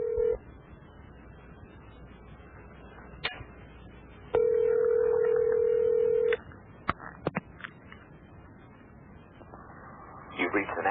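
A telephone call is placed: a brief tone, scattered keypad beeps, then one long steady ring tone, followed by clicks and more quick dialing beeps against a faint line hiss.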